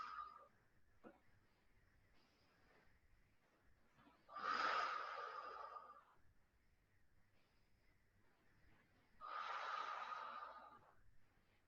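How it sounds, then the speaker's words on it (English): Slow, gentle deep breathing during a yoga chest-opening stretch, two long airy breaths several seconds apart, close and soft in a quiet room. "Just take a couple gentle deep breaths here."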